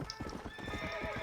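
Horse hooves clip-clop in a steady galloping rhythm with a whinny near the start, ridden in the Red Dead Redemption: Undead Nightmare game, close and fairly loud throughout.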